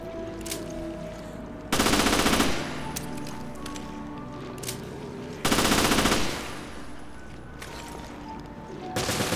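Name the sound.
gunfire in the video game Resident Evil Revelations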